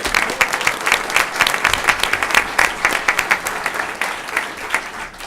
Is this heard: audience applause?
yes